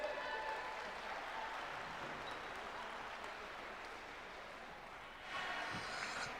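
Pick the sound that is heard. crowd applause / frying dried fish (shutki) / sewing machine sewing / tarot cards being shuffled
crowd applause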